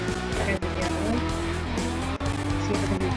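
Car tires squeal and skid steadily over a droning engine while drifting in the CarX racing game played with an Xbox controller, a continuous loud screech with a few brief cuts and a voice talking underneath.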